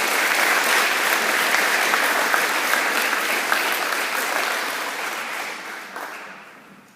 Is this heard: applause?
yes